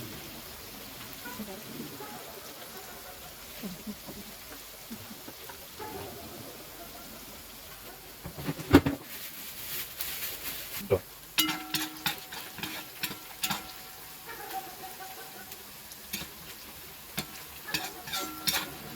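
Onion frying in a pot for Tajik plov, stirred now and then, giving a steady low crackle with scattered scraping clatters and sharper utensil knocks in the second half.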